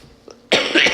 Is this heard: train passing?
no